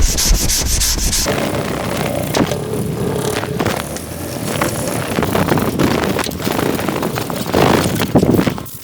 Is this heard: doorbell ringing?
no